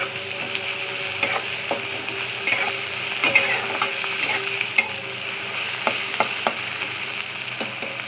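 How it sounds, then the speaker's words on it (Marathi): Onion and tomato frying and sizzling in oil in a pan, a steady crackling hiss with scattered sharper pops and occasional stirring clinks, close and fairly loud, with no talking. "अजून आपण थोडंसं शिजवून घेऊया मस्त कांदा टमाटर."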